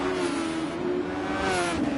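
A Super Formula race car engine in a sim racing league at the Nurburgring GP Circuit, droning steadily at high revs throughout with slight pitch shifts, close and continuous with no talk.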